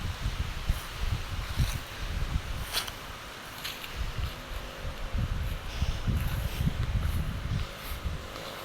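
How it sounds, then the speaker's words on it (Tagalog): Wind stirs leaves near a rice field close to a creek, a soft, uneven rustle with low gusty rumbles against the microphone that holds steady throughout, and no talking. "Hangin. Sarap ng hangin."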